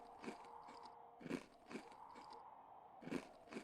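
A crunchy turkey is eaten in the video game My Bones Remastered. Several quiet, crisp biting and chewing crunches come in an uneven rhythm over faint background.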